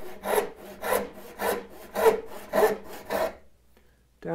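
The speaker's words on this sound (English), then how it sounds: "And now we're going to cut down this face." A hand saw cuts down the face of a wooden workpiece for a mitered bridle joint in window joinery, giving seven steady rasping strokes with an even back-and-forth rhythm, close and clear, then stopping with a brief quiet at the end.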